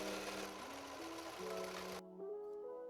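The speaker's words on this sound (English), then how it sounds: "And now I'm going to serge down these edges" A serger sews down fabric edges on a thrifted dress, a fast steady mechanical whir with a humming pitch that steps up and down as the speed changes, cutting off briefly near the end before restarting, fairly close.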